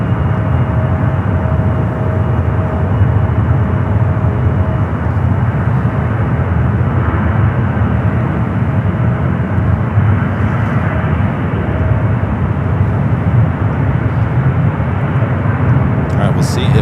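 Delta airliner taking off at San Francisco airport, a continuous heavy low engine roar sustained at constant loudness throughout, with someone speaking over it.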